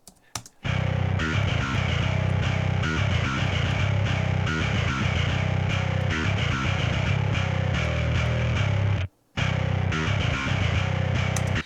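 Djent bass through a VST plugin on a gentle saturation preset, with no drums, plays as a loud, dense and steady gritty tone that stops abruptly near the end, briefly drops out, then comes back.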